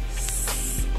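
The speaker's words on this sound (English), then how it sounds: "one spray" Perfume fragrance spray puffed once from a small twist-up tube atomizer, a short close hiss standing alone.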